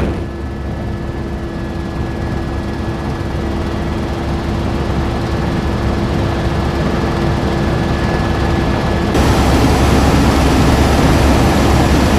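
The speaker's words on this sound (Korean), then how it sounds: "헬기가 비구름 쪽으로 접근 중인데요." A helicopter flies toward rain clouds over Kauai, its rotor and engine making a loud continuous drone with a steady low throb that stays constant throughout and grows slightly heavier near the end, with no talking.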